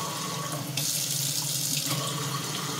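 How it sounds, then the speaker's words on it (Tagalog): Water pours steadily from a freshly cleaned household faucet, a close, continuous rushing stream that swells slightly louder partway through and stays even, with no voices. "Sulit na yung daloy ng tubig."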